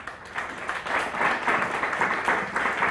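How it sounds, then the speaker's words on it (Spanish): Audience applause for panelist Marcela Valiente at a roast panel, a moderate, even clatter of many hands clapping, somewhat distant and sustained. "Un fuerte aplauso, por favor, para Marcela Valiente"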